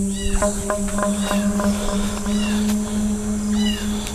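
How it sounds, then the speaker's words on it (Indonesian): A cat meows several times, drawn-out rising and falling cries, over a steady low hum and faint background noise. "pantesan suara kucing tapi tidak ada kucing ya"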